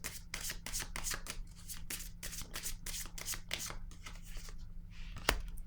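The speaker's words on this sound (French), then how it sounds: "Je vais déposer une carte sur elle" Tarot cards riffled and shuffled in a quick run of crisp bursts, then a pause and a single sharp snap as a card is laid down; close and fairly quiet, with no voices.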